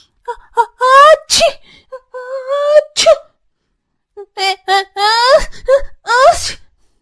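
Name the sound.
children sneezing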